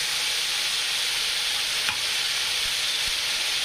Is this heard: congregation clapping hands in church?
no